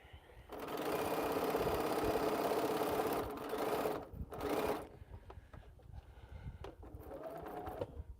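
A sewing machine stitches through a thick quilt seam, running in loud close bursts of rapid needle chatter, pausing briefly between runs, then resuming more slowly and strained toward the end.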